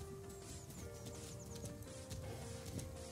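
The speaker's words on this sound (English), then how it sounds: "Yay, good horsey. Go walk back." Horse in the Star Stable video game, with steady clip-clop hoofbeats and faint whinny-like game sounds under a busy, continuous game soundtrack.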